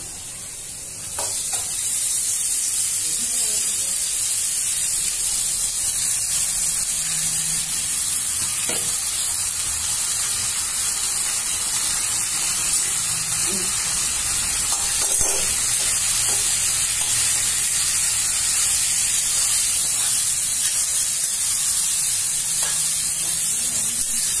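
Potato pieces fry in a pan for sabudana khichdi, a steady loud sizzle and hiss lasting the whole stretch with occasional faint scrapes of stirring, no talking.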